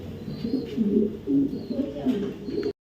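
A pigeon, a silver male Afshan Damascene, coos close by in low, repeated rolling phrases that pulse steadily under faint room noise before cutting off abruptly.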